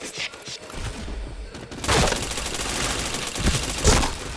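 Video game gunfire rattles in rapid, dense bursts, quieter at first and then loud and sustained through the rest, with no other sound standing out.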